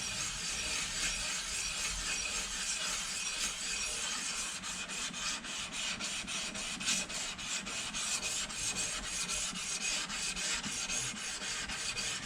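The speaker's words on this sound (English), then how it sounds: "So when we're scraping, it's going to be scraping evenly." A Record 80 cabinet scraper scraping across a flat wooden surface, producing a steady, continuous rasping rub that runs throughout without a break, close and fairly loud, with no voices.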